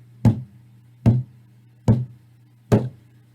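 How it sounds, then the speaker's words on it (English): Four loud, evenly spaced knocks sound about once every 0.8 seconds, each a sharp hollow thud over a low steady hum. "Suddenly, I heard a loud knocking sound."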